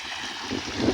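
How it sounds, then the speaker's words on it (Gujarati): Water rushes steadily through an irrigation channel cut along the rows of a groundnut field, a continuous broadband wash with no breaks and no voices. "અહીંમાંથી પાણી આવે છે મિત્ર"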